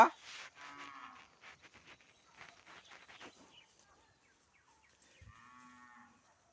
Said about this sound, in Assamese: আলিৰে আমাৰ গৰুকেইজনী এইকেইজনী পালোঁ